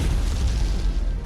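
Explosion in the video game Homecoming Wings, a loud, dense, sustained boom with rumbling low end that fills the whole moment.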